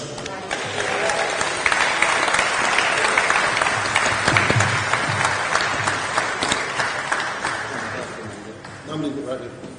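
Warm applause from the audience at a London Transport Museum event celebrating Windrush 75, a steady, full wash of clapping that carries on for about eight seconds before fading, with a brief voice at the very end.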